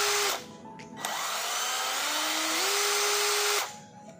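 A cordless 20V impact driver runs alone in a close whirring spin, with its pitch stepping up as the variable-speed trigger is squeezed further, then it winds down and stops after about three seconds.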